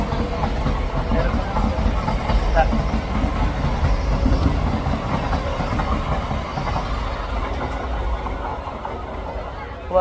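A train pulls out of Thakurnagar railway station, with a steady heavy rumble and rolling wheel noise throughout, under a faint crowd babble on the platform.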